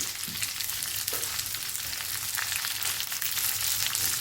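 Ginger pieces dropped into sizzling masala for crab curry, a steady loud frying hiss close by with faint soft stirring knocks, no talk.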